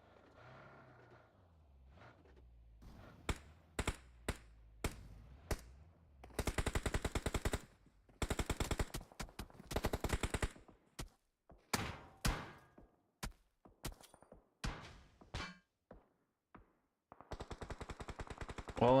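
Rapid video-game gunfire during an esports battle royale scrimmage: sharp single shots and long automatic bursts crack out in dense, uneven clusters, loud and close with no voices.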